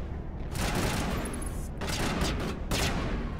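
Enemy gunfire in the Mass Effect 1 Legendary Edition, played on Xbox Series X: dense, sustained bursts of rapid shots with booming hits, loud and continuous, with no talk.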